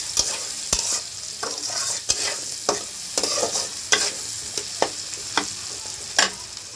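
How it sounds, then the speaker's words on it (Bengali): Potato pieces fry in oil left over from frying fish, a constant crackling sizzle broken by sharp scraping clicks as a utensil stirs the pan, up close and loud. "মাছ ভাজার তেলের মধ্যে আমি প্রথমে আলুটা দিয়ে দিলাম, আলুটাকে একটু ভাজা ভাজা করে নেব।"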